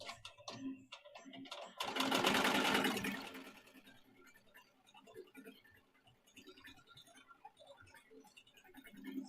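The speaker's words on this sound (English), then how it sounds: "So I slowed the machine down because remember we're going through this cardboard" Embroidery machine stitching through a hat bill backed with cardboard, run at reduced speed; a dense burst of rapid mechanical stitching dominates about two seconds, then softer ticking and clicking continues, close and fairly quiet.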